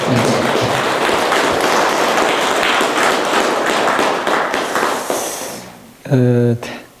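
Audience at a Buddhist dharma talk in a temple hall breaks into loud, sustained applause, dense clapping that fades out near the end before a speaking voice returns.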